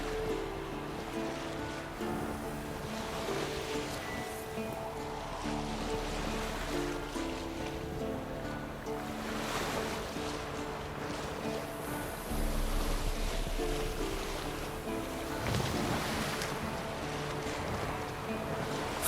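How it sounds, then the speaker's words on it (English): Sea waves wash steadily against a sailing boat on open water in The Witcher 3, with wind and a soft flutter of sails running through, a low rumble swelling around the midpoint; no one speaks. "Fall off a bit. Sails fluttering."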